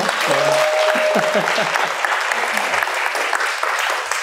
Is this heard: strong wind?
no